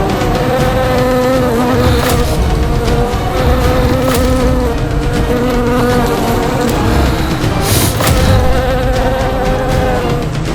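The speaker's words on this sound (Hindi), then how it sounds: "ये भिनभिनाहट जैसे असंख्य कीट एक साथ ध्वनि उत्पन्न कर रहे हैं" Dense, continuous buzzing as of countless insects swarming together, loud and steady throughout with layered droning tones and no speech, set within a devotional drama scene.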